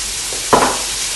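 Chopped onion, carrot, celery and bacon drop into a hot pan and start sizzling, a single sharp burst of frying against a steady background hiss.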